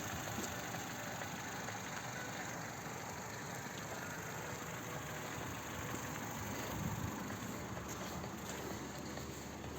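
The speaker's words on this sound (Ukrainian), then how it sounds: "Чуєте, двигун працює абсолютно без питань." A Ford Fusion engine running on gasoline or LPG idles with a steady low rumble, constant and even throughout, heard close up with no talking.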